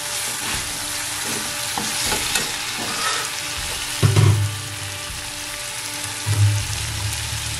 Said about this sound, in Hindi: मैं चम्मच चला रही हूँ